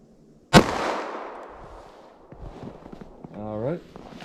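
A single sharp 9mm +P gunshot, fired from a 3.2-inch barrel into a ballistic gel block outdoors, cracks once loudly and rolls away in a decaying echo, followed by faint movement and a brief spoken word.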